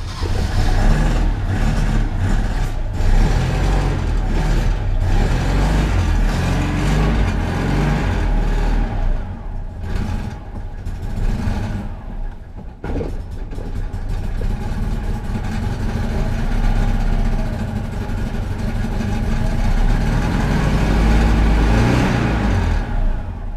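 A Citroën 2CV engine that has been stalling and cutting out runs steadily and loudly throughout, with idle and revving surges and a brief dip near the middle, no voices over it.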